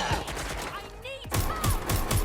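Gunfire rattles in Watch Dogs: Legion, rapid bursts of shots over game sounds and a tonal effect. The firing picks up into a louder volley near the end.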